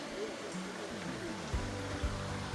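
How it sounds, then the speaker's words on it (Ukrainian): A steady broadband rush of a mountain waterfall fills the scene, with a voice murmuring faintly underneath. "а там десь водоспад"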